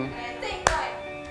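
A single sharp hand clap marks the start of a take, loud and close, standing alone against a quiet room with a faint hum.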